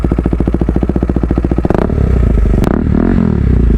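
A KTM Duke 390 motorcycle with a loud aftermarket exhaust idles close by in fast, even pulses, then revs up into a hard, raspy roar with brief crackling.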